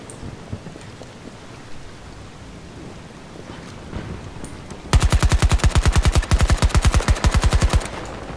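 Rapid automatic gunfire in Battlefield 2042, a loud burst of about three seconds with sharp evenly spaced shots, following a stretch of quieter game ambience with scattered distant thuds.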